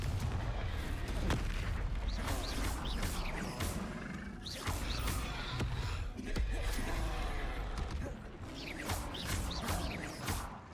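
Confringo blasting spells explode over and over in Hogwarts Legacy, a rapid string of loud booming blasts with crackling debris and rumbling low end, continuous for the whole stretch with no talk.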